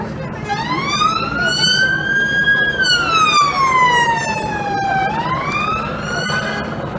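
Fire engine siren wailing nearby, a single loud tone sweeping slowly up and down in long rising and falling arcs over street rumble, with faint voices in the background.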